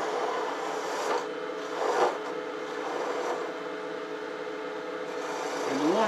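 Gouge cutting wood on a spinning wood lathe, a continuous rasping scrape with swelling strokes as material is reduced, close and steady.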